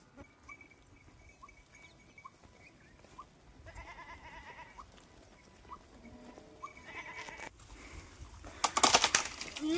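Goats bleat in open farmland fields, faint repeated calls spread across the scene, with rustling and louder handling noise building toward the end.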